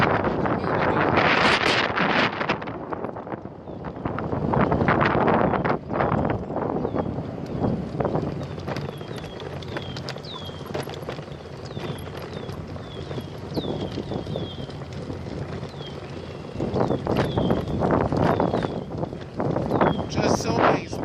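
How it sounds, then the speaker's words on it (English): Breezy outdoor wind buffets the microphone in strong gusts, rising and falling over the whole stretch, with quieter lulls between bursts and faint bird chirps in the background. "A little bit more breezy over here."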